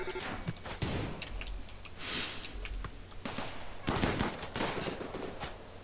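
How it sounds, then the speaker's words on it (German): Scattered gunfire between characters in a video game, sharp shots and short bursts popping at irregular intervals, some closer and louder, others more distant, over a steady background hum. "Jetzt schießen die aufeinander oder was?"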